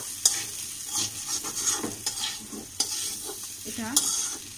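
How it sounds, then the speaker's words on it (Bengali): A spoon stirs boiled potatoes frying in a wok for a fish-belly and bitter gourd dish: soft scraping strokes and clinks repeat over a quiet, steady sizzle, with no talking. "সেক্ষেত্রে আপনারা সবসময় এভাবে নাড়তে থাকবেন, তাহলে আলুটা লেগে যাবে না কড়াই"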